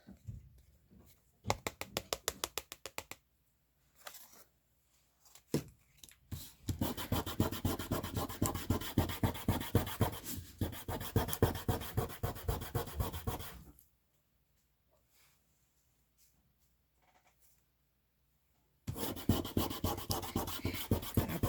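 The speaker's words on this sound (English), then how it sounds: "varnish this over here. Any excess, wipe it off with your brush." Varnish is brushed over a glitter-covered craft surface in repeated, rhythmic, close-up strokes that come in bursts with quiet pauses between them.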